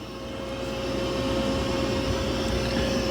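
A Mova P10 Pro Gen 2 robot vacuum on quiet mode gives a steady, low motor whir with airy suction noise, running continuously at a moderate level, with no voices.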